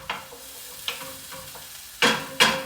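Onions and ginger fry in a pan while being stirred, a low sizzle punctuated by sharp scraping strokes, two of them loud and close together near the end.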